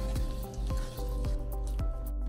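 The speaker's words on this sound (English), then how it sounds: "you will use a spoon and mix until the batter is consistent" A spoon stirs Oreo brownie batter in a bowl, giving soft, wet squelching strokes that repeat at a steady rhythm, close and fairly quiet.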